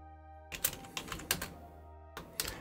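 Keyboard typing as a flag's text is entered in Kerbal Space Program: a close, quiet burst of separate keystrokes, a pause, then a few more taps, with no voices.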